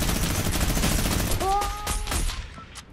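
Rapid minigun fire in Fortnite, a dense stream of loud shots that thins out and stops near the end, with a few tonal game effects ringing through the middle.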